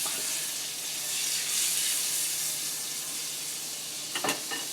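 Butter added to a hot pan sizzles with a steady, close, bright crackling hiss, then a couple of faint clinks near the end, with no talk.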